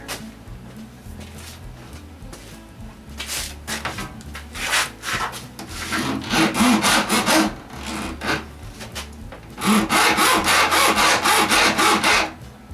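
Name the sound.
hacksaw cutting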